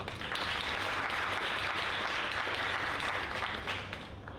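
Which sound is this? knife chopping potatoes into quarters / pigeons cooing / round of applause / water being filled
round of applause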